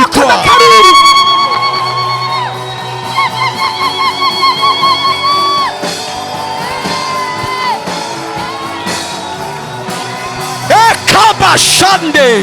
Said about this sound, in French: Est-ce qu'on peut pousser des cris de victoire?